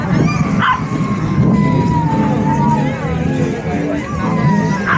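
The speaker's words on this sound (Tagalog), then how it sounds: "Hindi naman may hawak silang aso." A dog barks and yips amid the steady hubbub of a busy outdoor market, with crowd chatter and passing traffic around it.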